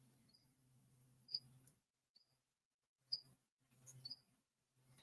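A single cricket kept in a tank gives a few sharp, high chirps spaced unevenly apart, faint and close, with a soft low hum and near-silent gaps between them.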